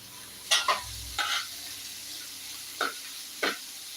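Semolina roasting in ghee in a pan, a few short scraping stirs and clinks of a spoon against the pan over a faint background hiss, close and intermittent.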